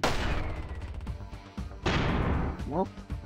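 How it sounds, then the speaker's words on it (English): A grenade in the side-scrolling mech shooter MechBlaze: booming blasts, one at the start and another about two seconds in, with rumbling tails and a faint voice underneath. "Let's try the grenade."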